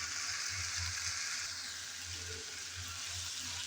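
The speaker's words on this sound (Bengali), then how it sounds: "যেহেতু আমি পানি ছাড়া আগে ভালোভাবে এই কচুরলতি কষিয়ে নিচ্ছি" Taro stolons (kochur loti) sautéing dry without water, a faint continuous sizzle with soft occasional stirring, quiet and steady.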